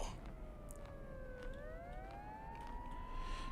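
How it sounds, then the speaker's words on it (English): Ambulance and fire truck sirens in a video game, several overlapping wails dipping and rising at a distance, faint over a low background hum. "Creepy ambulance and fire truck noises again."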